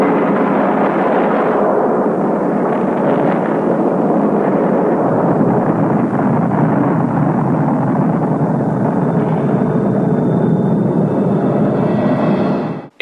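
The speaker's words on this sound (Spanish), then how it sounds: "Este es el primer ensayo que hicieron los soviéticos con una bomba de hidrógeno en el año 1953." The 1953 Soviet hydrogen bomb test explosion, a loud continuous roaring rumble that fills about thirteen seconds without easing, then cuts off abruptly. It is heavy, dense and distant-sounding, with no voices.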